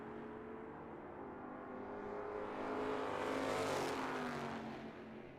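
A 1970 Ford Torino and a 1967 Ford Mustang drag racing at Tucson Dragway, engines roaring and swelling as they pass at a distance, a steady droning rise and fall of motor noise with no talk.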